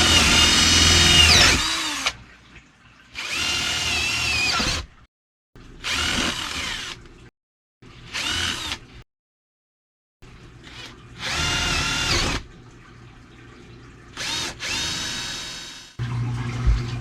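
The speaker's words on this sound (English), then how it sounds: "Take this out with an electric drill." An electric drill removing screws runs in a series of loud bursts, whirring on and off with short silences between, close by.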